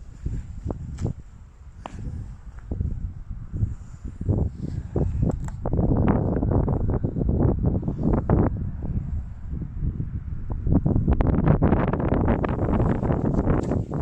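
Blustery wind buffeting the microphone in low rumbling gusts over a soggy cemetery in Saltcoats, growing heavier and more constant in the second half, with no talking.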